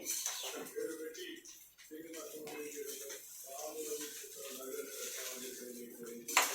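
Cooked jeera rice gets mixed in a pot, giving soft scraping and clinking of a spoon against the vessel, close and quiet, with someone talking over it.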